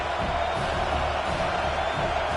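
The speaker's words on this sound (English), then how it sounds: "The roar of the crowd trying to fuel this defense to keep them pinned in their own end." Football stadium crowd in Madden 26 roaring for the defense, a steady, dense wall of crowd noise with no breaks.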